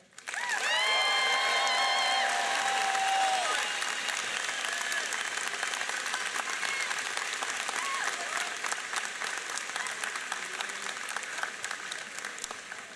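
A high school graduation crowd bursts into loud applause and cheering for the valedictorian, with whoops and shouts over the opening seconds, then sustained clapping that slowly thins while staying strong.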